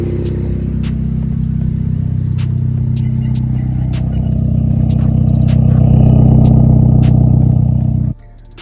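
A boosted Honda R18 engine idles close up with a steady low drone and rattling mechanical clatter, swelling slightly louder before cutting off abruptly near the end.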